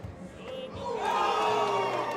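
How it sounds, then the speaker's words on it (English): A crowd cheers and shouts at a bowling lane during a singles finals match in Lubbock, Texas. The roar swells up loudly partway through and holds. "I know you hear that crowd in the background"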